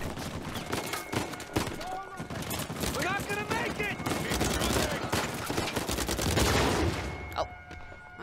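Uncharted 4 gunfire rings out in bursts of rapid shots and heavier cracks, mixed with game noise while a person talks and exclaims over the action.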